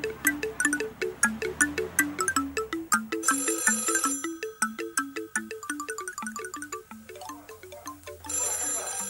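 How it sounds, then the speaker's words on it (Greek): A telephone ringing in a 1987 Greek film scene: a repeating electronic melodic ring, loud and rhythmic, with a brief voice and bursts of other noise breaking in. "Σήκωσε τηλέφωνο!"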